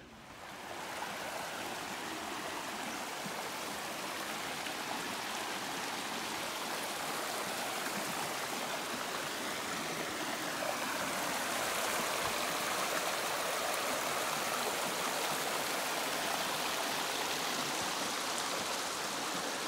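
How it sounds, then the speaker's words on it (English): A small clear creek crossing on the Appalachian Trail in the mountains, water rushing and burbling in a constant, even wash that swells slightly partway through, with no voices over it. "Little creek crossing. Beautiful clear water."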